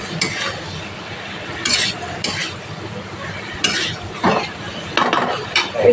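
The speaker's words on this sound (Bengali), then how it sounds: "তো বন্ধুরা দেখেন মশলাটা অনেকটা ভাজা হয়ে এসেছে" A spatula scrapes and stirs a spice mix with sugar frying in a pan for a vegetarian jackfruit and bean-seed dish, giving repeated close scraping strokes and metallic clinks over a soft sizzle.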